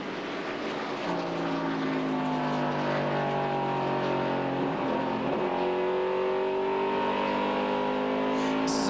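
NASCAR stock cars racing in the 1996 Jiffy Lube 300, a loud continuous roar of engines with overlapping pitch sweeps as cars pass, sustained throughout.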